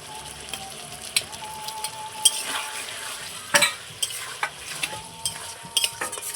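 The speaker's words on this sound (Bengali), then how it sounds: "এবার আমি ভেজে রাখা আলুটাও দিয়ে দেবো" Fried potatoes stirred into cooked spice masala with a little water for aloo potol dalna, a spatula scraping and clinking against the pan in irregular strokes over a continuous close sizzle.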